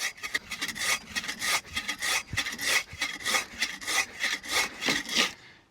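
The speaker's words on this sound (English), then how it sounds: "These are the hardest saws to use and cut in a straight line ever." A hand saw cuts through wood on a deck build set into solid rock, giving a loud, close, rhythmic rasp of steady back-and-forth strokes, roughly two per second, that stops at the end.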